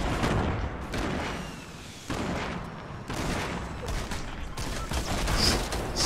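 In Fortnite, RPG rockets hit a house, a dense barrage of loud booming blasts and crackling gunfire in close succession, with bursts every second or so.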